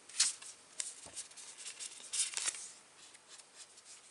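Oracle cards being shuffled by hand, a few soft papery riffles and rubs, quiet and close with no talking.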